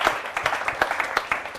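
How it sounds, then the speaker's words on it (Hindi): Audience applause at a patriotic poetry gathering (kavi sammelan) celebrating Azadi Ka Amrit Mahotsav, a short burst of scattered, uneven hand claps with distinct individual slaps rather than a dense roar. "एक बार जोरदार तालियां हो"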